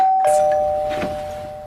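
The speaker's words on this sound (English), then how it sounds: "you're trying to fix your hair and the doorbell rings" A doorbell gives a single clear electronic chime, with a sustained ringing tone that slowly fades out.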